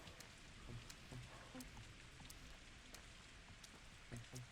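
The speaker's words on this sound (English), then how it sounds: "I think it always rains on the last day" Steady rain falls throughout in the video game Pathologic 2, a soft, even hiss with scattered droplet ticks, fairly faint, and a brief louder knock right at the end.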